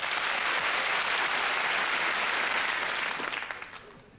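A studio audience on a 1986 television comedy special claps steadily, a dense, even wash of hands that holds for several seconds before thinning and tailing off toward the end.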